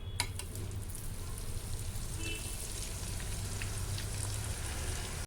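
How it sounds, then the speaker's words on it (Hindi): Edible gum (gond) fried a little at a time for dry fruit and gond laddu: a continuous soft, rain-like crackle and hiss of frying that holds steady throughout, then cuts off abruptly. "ये थोड़ा थोड़ा सा गोंद ले करके ना मैं इसको फ्राई कर लेती हूँ।"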